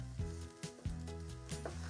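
Egg frying in a pan for shrimp fried rice, a soft continuous sizzle with occasional spatula scrapes and stirring scuffs as it is pushed and scrambled around.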